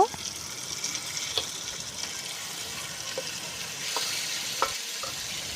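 Duck meat going into fried onions in a pan, a steady sizzle with scattered clinks and scrapes of stirring, and a voice talking now and then over the cooking.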